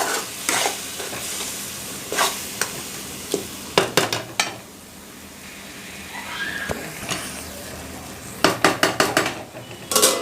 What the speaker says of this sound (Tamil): இது ஒரு 5-6 நிமிஷம் நல்லா குக் ஆகட்டுங்க தக்காளி.